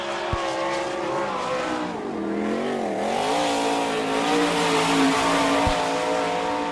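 Race car number 14 running a qualifying lap at an All Star Circuit of Champions event in Sarver, Pennsylvania, its engine droning continuously with a pitch that dips and climbs as it works around the track, fairly loud and with no talk.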